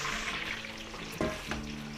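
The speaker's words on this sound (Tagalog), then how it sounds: "Tapos, prito rin po tayo dyan ng patatas and carrots." Steady oil sizzling as potatoes and carrots fry, with a couple of brief clinks as food is stirred in the pan.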